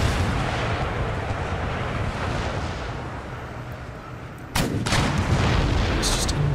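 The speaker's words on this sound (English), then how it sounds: "we get absolutely pasty with artillery. Just have to let our guns do the work" Artillery in the Empire: Total War strategy game, rumbling cannon booms rolling together in a heavy continuous barrage, with a sharper, louder volley of blasts breaking in partway through.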